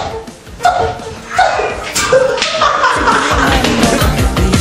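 A dog gives several yips and barks during a film shoot, in bursts at moderate distance, mixed with whimpers and some laughter and voices around it.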